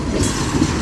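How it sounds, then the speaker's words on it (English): CSX freight train rolling past with a BNSF steel coil car, a steady close rumble of wheels and cars with faint squeal, no voices, brief continuous stretch. "Little BNSF steel coil car right there, nice."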